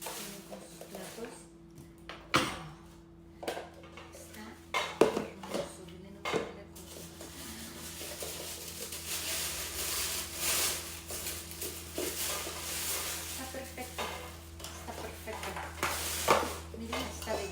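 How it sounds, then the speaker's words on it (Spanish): Metal pots and plates from a Gerber ComplEAT camping cookware set clink and clatter as they are handled, with irregular knocks and scrapes close by while a person talks. "hermoso este set de ollas, miren, vienen con sus platos"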